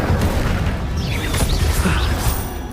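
Incendio fire spell cast in Hogwarts Legacy, a dense burst of whooshing flame and crackling impacts lasting a few seconds, loud and continuous with scattered pops over a low rumble.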